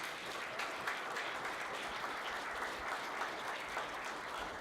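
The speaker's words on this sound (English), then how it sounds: "a big round of applause, please" Steady, dense applause from a sizable wedding audience, continuous hand clapping that holds at an even level throughout without any voices on top.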